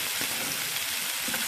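Spare ribs frying in their own fat in a pan without oil, a close, continuous sizzle with faint scraping as they are turned.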